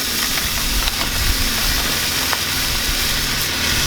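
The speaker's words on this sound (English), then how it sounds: "we are going to cook the bacon in our cast iron skillet" Wassie's bacon sizzling in a cast iron skillet, a steady, loud, close crackling hiss that carries on without a break.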